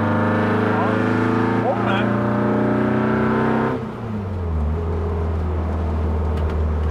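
A Volkswagen Fusca with a naturally aspirated 2100 engine and four throttle bodies revs hard in a steady, loud, buzzing drone that drops abruptly to a lower rumbling idle partway through, close up, with people talking over it.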